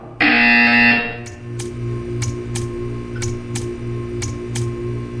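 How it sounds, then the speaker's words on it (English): A loud electronic buzzer in Portal 2 sounds for about a second, followed by a steady series of sharp ticking clicks over a low hum. "You will hear a buzzer."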